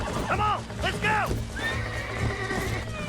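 Horse in Red Dead Redemption neighing and whinnying while being broken in, several loud shrill calls over hoof clops and game music, with a voice urging it on.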